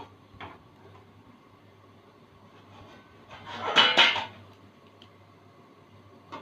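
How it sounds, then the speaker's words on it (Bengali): A metal plate set down as a lid over a cooking pot of water for steaming caramel pudding gives one short clattering clink midway, near and moderate, over faint kitchen background. "এবারে থালাটা দিয়ে ঢেকে দেব।"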